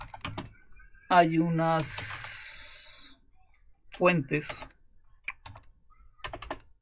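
Computer keyboard with an English layout typed at a Linux console during an Arch Linux install, a short burst of quick clicks between stretches of Spanish speech, close and fairly quiet.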